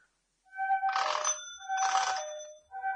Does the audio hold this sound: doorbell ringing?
yes